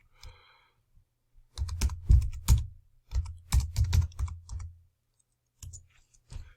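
Fingers type on a computer keyboard at close range, with irregular bursts of clicking keystrokes separated by short pauses and a faint beep at the start.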